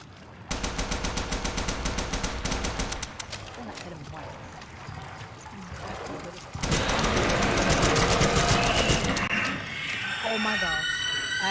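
Rapid automatic gunfire from a drum gun in Bendy and the Ink Machine chapter three, loud bursts of fast repeated shots with a brief lull in the middle before a second sustained volley.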